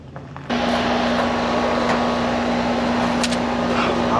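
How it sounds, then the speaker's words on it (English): Outdoor Goodman air conditioner condenser kicks on after a brief quiet moment, then runs at a steady loud whir. The fan and compressor make a continuous drone with a fixed low hum underneath. "Now I'm gonna turn it on and go ahead and check my amps on my fan and the overall unit and the compressor."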